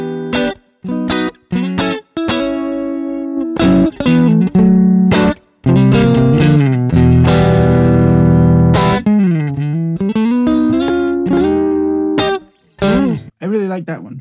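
Funky electric guitar played through the Neural DSP Archetype Cory Wong plugin with reverb: crisp, choppy plucked chords and single-note runs in short bursts, up close and loud, ringing tails between phrases.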